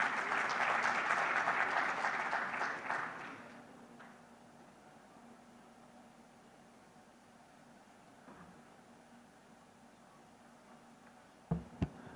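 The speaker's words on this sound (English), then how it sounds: "Can I have a round of applause for him" Applause from a summit audience bursts out loudly for about three seconds, then fades into a quiet room hum, with a sharp thump near the end.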